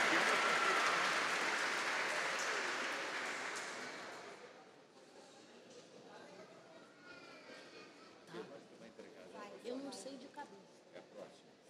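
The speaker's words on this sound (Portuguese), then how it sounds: "Vamos aplaudir a nossa querida coordenadora." An audience at a formal diploma ceremony applauds loudly, then the clapping fades after a few seconds into murmuring crowd noise and scattered claps.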